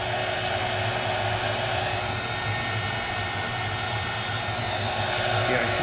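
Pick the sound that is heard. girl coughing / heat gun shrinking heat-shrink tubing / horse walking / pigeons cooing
heat gun shrinking heat-shrink tubing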